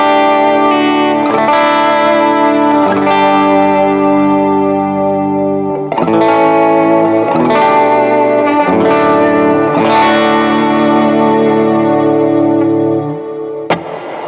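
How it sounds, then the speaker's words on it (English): Guitar chords played through a lush reverb pedal with about 3.5-second decay, each strum swelling and washing into a long, shimmering tail; loud, continuous, with no talking. "So here is Cloud 1, just the reverb."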